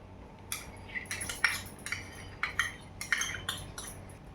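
A spoon clinks against a pot while adding pav bhaji masala to vegetables, a string of sharp metallic taps and scrapes, close and fairly quiet, with no talking.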